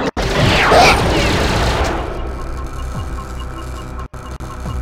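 Klobb gunfire in the Perfect Dark video game: a loud, dense burst of rapid shots and booms, trailing off into quieter game sounds with brief dropouts.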